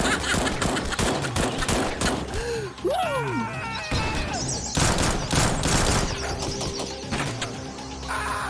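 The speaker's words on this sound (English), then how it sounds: "Someone just shot from down here." Gunfire in the video game Xpiratez: rapid volleys of loud, close shots mixed with mechanical clanks and crashing impacts, continuing throughout without a break.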